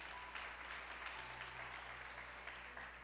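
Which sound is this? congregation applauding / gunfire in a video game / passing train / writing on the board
congregation applauding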